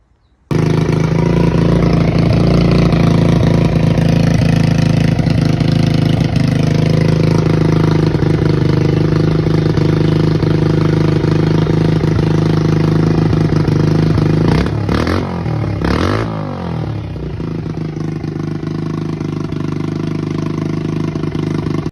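A small engine run on a homemade mini ECU starts and holds a loud, steady, rough idle up close, with a brief blip in revs partway through before settling back to a constant drone.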